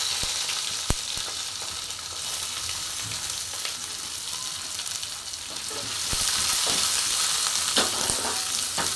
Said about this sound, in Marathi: आता ह्याच्यामध्ये कढीपत्ता थोडंसं कडकडलं, लगेच कांदा टाकून घेतला.